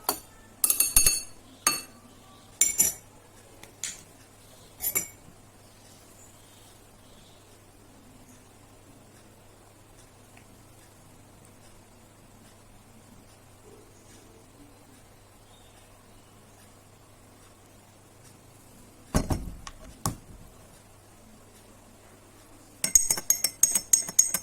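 A spoon clinks against a glass while a solution of salt or sweet soy sauce is stirred, with quick bright taps in bursts at the start, then a long near-silence and more clinking near the end.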